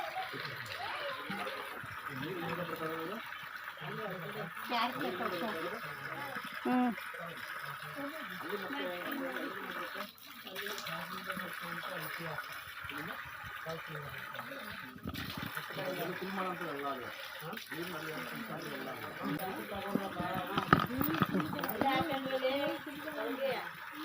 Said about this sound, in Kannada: ಅಲ್ಲಿಂದ ತುಂಬಿರೋ ನೀರು ಇಲ್ಲಿ ಬರುತ್ತೆ